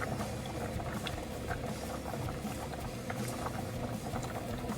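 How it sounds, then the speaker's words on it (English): A pot of pasta boils on a stovetop, a steady close bubbling and rolling simmer that runs without a break and with no talking. "I'm going to let this boil for 9 minutes"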